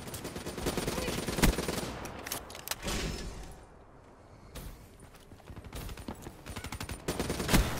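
Call of Duty: Black Ops III gunfire: loud rattling bursts of automatic fire, sharp single cracks, a brief quieter gap mid-way, then renewed close, rapid shooting.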